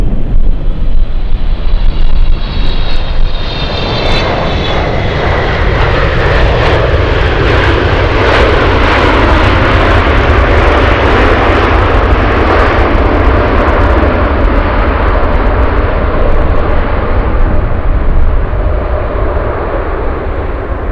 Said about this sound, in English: China Airlines Cargo 5336 flying in from Taipei after the 777.